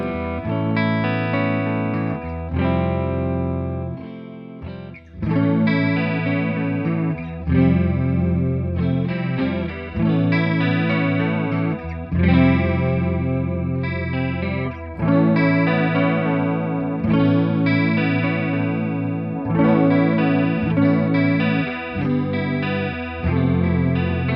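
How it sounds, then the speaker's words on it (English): Electric guitar through a Boss C2 chorus pedal with the mids cut, strummed chords and picked notes flowing continuously with a shimmering, wavering, swirling tone. "I'll take this Boss C2 chorus and cut the mids so that it doesn't have as much of a vintage sound."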